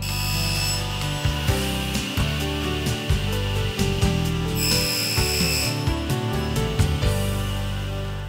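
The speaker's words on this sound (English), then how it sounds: "the metal cutting blade in the table saw does a really good job of cutting the aluminum" A table saw fitted with a non-ferrous metal cutting blade slices through aluminum, a loud ringing whine with bursts of harsh screeching as the blade bites, rising and falling through several short cuts.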